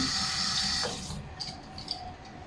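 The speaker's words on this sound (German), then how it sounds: "die Möhren und die Kartoffel, die werden erstmal gewaschen" Carrots and potatoes are washed under running tap water for a soup. A steady, close rush of water gets slightly softer after the first second, with light splashing as the vegetables are handled.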